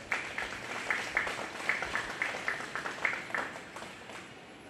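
Applause for exhibitors at a 4-H and FFA goat show at the Greene County Fair, heard as a steady, moderately distant patter of many hands that keeps going throughout with sharper claps standing out.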